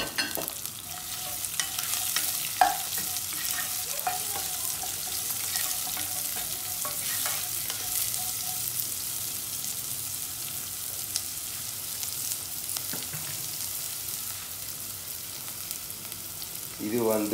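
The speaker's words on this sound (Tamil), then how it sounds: "வெங்காயம் போட்டு வெங்காயத்தை போட்டு பதங்க விடுகிறார்கள்." Onions sizzle steadily in hot oil in a pan for a shrimp curry, with a spoon scraping and stirring now and then, the frying hiss staying continuous and close throughout.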